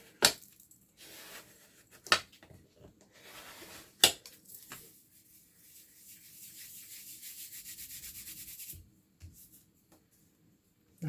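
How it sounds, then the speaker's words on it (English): Squeezed-out Fabri-Tac craft glue is rubbed off a handmade book cover, a steady dry scrubbing friction that runs for several seconds after a few sharp knocks, close and fairly quiet. "if it squeezes out, you can rub it off and it doesn't affect anything"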